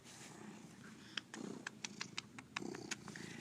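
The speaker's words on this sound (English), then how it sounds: "You are purring at your happiest state of being right now." A big orange cat purrs steadily up close, a low continuous rumble with soft clicks and rustles scattered over it and no voices.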